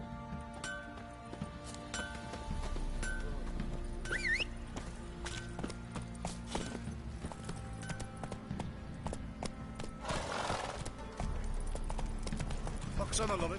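The horse Roach trots along in The Witcher 3, a run of quick rhythmic hoof clip-clops layered with game music and a character's voice, with a brief jingle of tack now and then.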